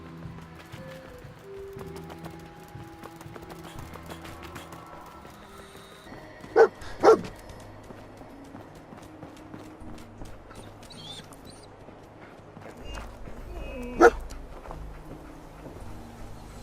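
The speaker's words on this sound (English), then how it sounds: "Got something, boy?" A dog companion in Fallout 4 gives a few sharp barks, a pair near the middle and another later, over quiet footsteps and game ambience.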